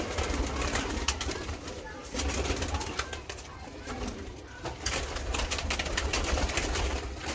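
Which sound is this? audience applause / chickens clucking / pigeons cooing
pigeons cooing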